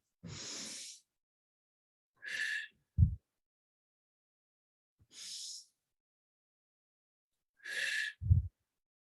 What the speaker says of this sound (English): Breathing in through the nose, out through the mouth, preferably with eyes closed